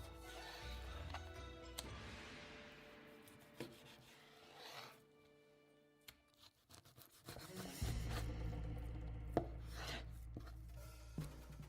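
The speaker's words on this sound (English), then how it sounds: "Pork belly, we cut it according to the same principle." A knife slices pork belly into thin strips on a board, soft repeated scraping and rubbing strokes with occasional light taps against the cutting surface, quiet and close, no voices.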